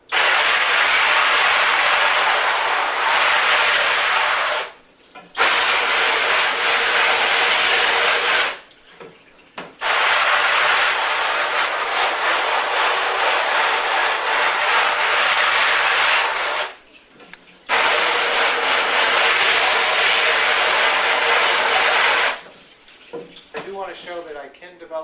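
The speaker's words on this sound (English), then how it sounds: "use the pressure washer and do a final rinse with that" A pressure washer rinses a screen printing screen, a loud steady broadband water spray that runs in long bursts with short pauses between them.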